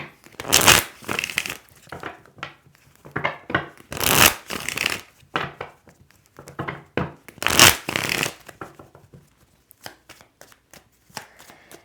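Tarot cards are shuffled and drawn by hand, three loud riffling bursts spaced a few seconds apart between softer rubbing, sliding and tapping of cards, close and without talk.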